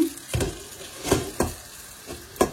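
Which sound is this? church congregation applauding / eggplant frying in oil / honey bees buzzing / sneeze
eggplant frying in oil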